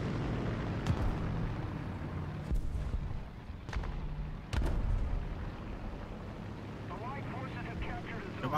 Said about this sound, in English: More artillery coming in.